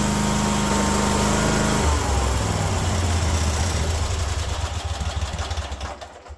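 Cub Cadet 1050 hydrostatic lawn tractor engine running on full choke while warming up, a steady loud close idle that shifts pitch partway through and slowly fades toward the end.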